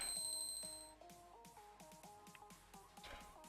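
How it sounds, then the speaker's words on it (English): Bell-like chimes ring out in the video game Alchemy Stars, a series of regular tonal strikes over layered game music, moderately loud and without talk. "The sound of that bell again."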